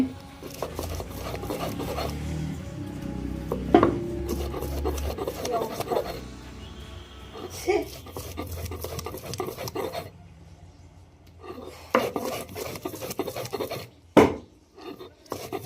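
Ginger is ground into paste on a grinding stone, a rhythmic raspy rubbing that runs back and forth steadily, close and fairly loud, with occasional knocks and brief pauses near the end.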